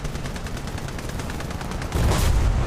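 An M109 self-propelled artillery gun fires at tanks in the War Thunder video game. A steady dense rumble of battle noise swells into a louder, heavier blast near the end, with no talking.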